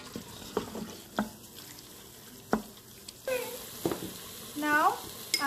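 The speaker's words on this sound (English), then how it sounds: "Then I will add my beef. Now cook it like this." Beef browning in oil inside an Instant Pot for beef stroganoff, with a faint sizzle under intermittent stirring clatter and scrapes close by, and brief tonal squeaks near the end.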